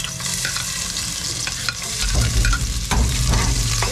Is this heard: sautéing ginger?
yes